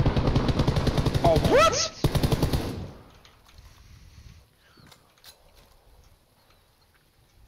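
Rapid automatic gunfire in a multiplayer shooter game rattles loudly in dense bursts for about three seconds, with voices talking briefly over it, then drops to faint scattered game noise.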